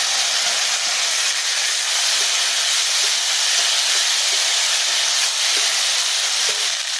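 Taro flowers drop into hot fish oil already crackling with fried panch phoron, producing a loud, steady, bright sizzle and hiss that holds evenly throughout, with no voices.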